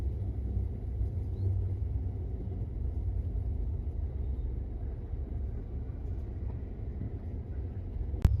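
A low, steady engine rumble and road noise fill the cabin of a moving sleeper bus, droning evenly throughout.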